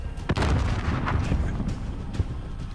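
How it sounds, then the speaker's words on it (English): In a Call of Duty Modern Warfare campaign battle, a grenade explosion and heavy gunfire boom and crack in quick succession, dense and loud for a few seconds. "Throwing a grenade in it."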